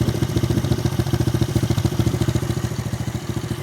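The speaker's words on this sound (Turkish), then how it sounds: "Rölantideyken motorun sesi bu şekilde." A Mondial SFC motorcycle engine idles close up, a fast, steady low thumping pulse with no voices.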